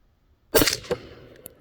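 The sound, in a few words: 300 Blackout subsonic rifle firing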